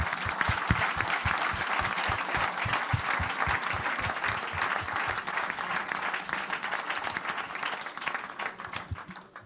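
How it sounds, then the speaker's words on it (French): A church congregation bursts into loud, sustained applause to acclaim the Lord, many hands clapping together in a dense, rhythmic wash that carries on steadily and begins to thin toward the end. "On peut vraiment acclamer le Seigneur pour son œuvre."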